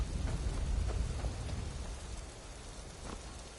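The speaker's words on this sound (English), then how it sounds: "See how the rain's coming through the rocks?" Steady rain falls across a rocky landscape in Skyrim VR, a dense even hiss with faint low rumbling underneath, continuous and moderately quiet with no voices.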